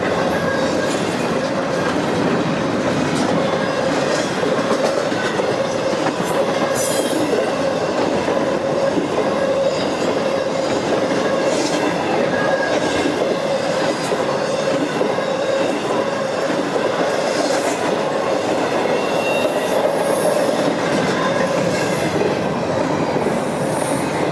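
A freight train rolls past steadily and close near Hanson, Kentucky, its wheels clattering in a continuous rumble with squeals over a dense broadband roar that holds for the whole stretch, with no voices.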